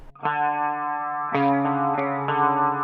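A distorted electric guitar rings out a clashing, dissonant minor-second chord, restruck twice, buzzy and sustained, close up with no speech.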